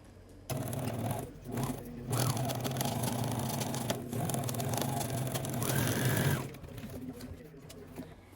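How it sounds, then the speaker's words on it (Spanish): A sewing machine runs a straight stitch through fabric for a cosmetic box bag, producing steady close mechanical whirring bursts with short pauses between runs. "Y voy a coser esta parte primero y después la parte del forro. Cosemos con puntada recta."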